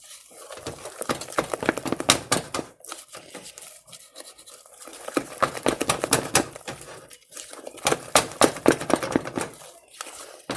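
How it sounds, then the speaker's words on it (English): A wooden spoon stirs and scrapes in a bowl while cooking, giving irregular close scraping and clicking bursts with short pauses between strokes. "We'll switch to a wooden spoon."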